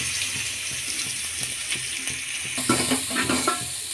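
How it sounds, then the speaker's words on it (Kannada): Onion frying in oil with mustard seeds and green chillies, making a continuous close hiss with light stirring taps that grows a little busier toward the end. "ಈರುಳ್ಳಿ ಚೆನ್ನಾಗಿ ಫ್ರೈ ಆಗಲಿ."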